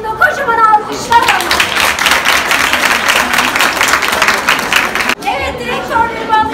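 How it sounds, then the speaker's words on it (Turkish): Audience applause at a company gathering: a burst of lively, dense clapping from a crowd lasts about four seconds and ends abruptly, with a voice talking just before and right after it. "Kocaman alkışlar."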